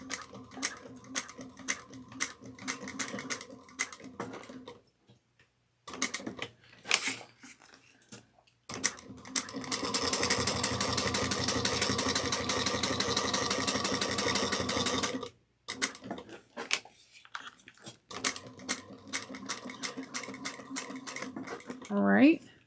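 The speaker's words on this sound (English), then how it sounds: "we are going to top stitch at 1/8 of an inch" A sewing machine topstitches a bucket bag in several bursts, with a long continuous run in the middle and shorter stop-start runs on either side. It is close, and a voice talks during the pauses.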